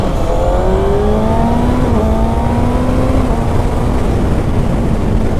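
A 2021 Kawasaki Ninja ZX-6R 636 accelerates hard with quick-shifted gear changes, its engine note climbing in close steady pitch sweeps, loud and continuous with wind rush and no talk.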